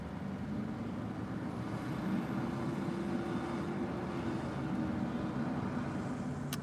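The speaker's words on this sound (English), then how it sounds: "Is the traffic noise too loud?" Steady street traffic from cars, trucks and buses forms a continuous low rumble throughout, with no talking over it.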